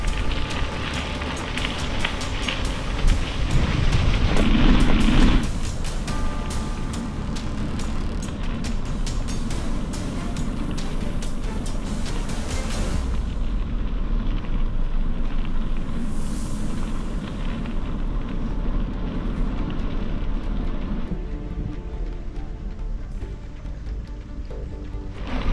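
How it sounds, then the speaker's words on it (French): Strong wind gusting while cycling along the Seine, roaring and buffeting loudly against the microphone throughout, with rough broadband rumbling that shifts in intensity. "Il y a un vent de dingue."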